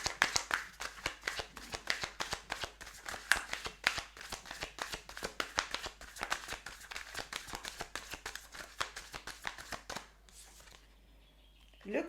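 Shozen tarot cards are riffled and shuffled in a rapid run of crisp flicks for about ten seconds. The shuffling stops and the room falls quiet, then a card is drawn.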